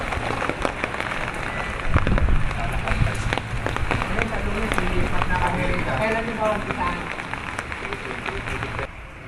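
Steady heavy rain pattering on surfaces throughout, with a faint voice murmuring underneath at times.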